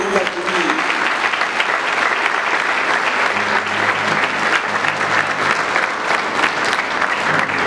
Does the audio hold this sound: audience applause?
yes